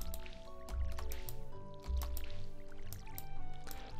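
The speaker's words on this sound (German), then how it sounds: "Ich habe sowieso vergessen, hier mal zu gießen." Crops are watered in the farming game Stardew Valley: wet splashing drips and squishy pours recur in a quick rhythm over soft background music, fairly close and moderately loud.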